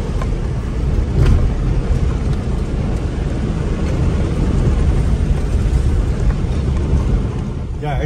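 Magnuson supercharged Chevrolet Colorado ZR2 pickup accelerating hard, a loud, sustained roar of engine and wind noise heard from inside the cab, steady throughout.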